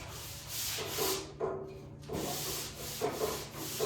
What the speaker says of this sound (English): I'm just gonna kind of sand around it